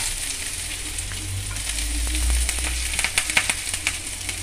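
Curry leaves, ginger and garlic frying in hot oil for a lime pickle give off a close, bright sizzle with crackles and spits that sharpen toward the end, over a low rumble and with no voices.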